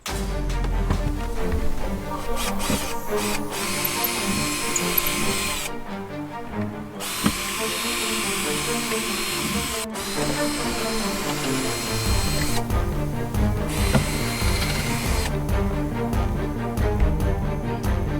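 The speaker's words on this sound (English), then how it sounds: "I did have to drill out the plastic mounting holes in the cooler lid itself." A power drill whines continuously as it bores out plastic mounting holes in a boat cooler lid, its pitch shifting under load, with two brief pauses where the motor stops.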